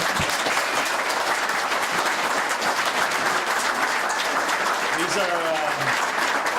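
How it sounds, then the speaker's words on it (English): Sustained audience applause for pageant contestants at the Colleen Pageant fills the whole stretch, steady and dense, with a brief voice rising faintly near the end. "just one more round of applause for the ladies that are here"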